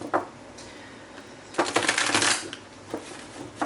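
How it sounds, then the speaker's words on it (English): A brand-new tarot deck being shuffled by hand: soft riffling card flutters and taps, with one longer, louder burst of shuffling in the middle, close up and with no voice. "so I'm going to want to shuffle the cards really good today."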